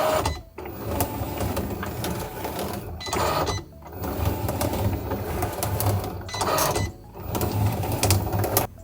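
A craft cutting machine with a deep point blade slicing circles from craft foam, a close, steady mechanical whir and rattle with repeated short pauses as the carriage moves between cuts.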